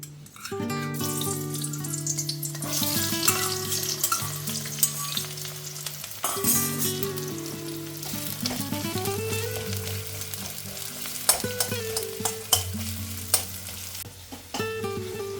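Onions frying in hot oil for shim bhorta, a loud steady sizzle with clanking utensil strikes and stirring scrapes throughout, close up with no talking.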